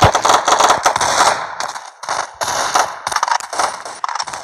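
Rapid bursts of gunfire from a first-person shooter game (SFG) crackle loudly and continuously, with dense sharp shot repeats and brief gaps.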